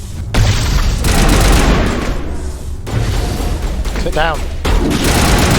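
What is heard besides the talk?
grenade explosion and gunfire in video game Mass Effect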